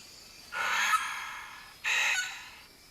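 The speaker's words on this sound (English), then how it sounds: "And that, a sulphur-crested cockatoo." A Vogelkop bowerbird copies a sulphur-crested cockatoo, giving two loud, harsh, raspy screeches about a second apart, each sustained and gritty, with a quiet pause between them.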